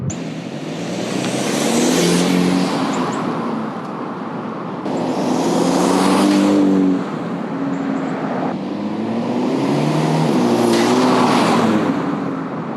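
A turbocharged Hyundai Elantra engine with an aftermarket intake heard from outside, revving up in three loud rising sweeps with a whooshing intake note between steady idling stretches.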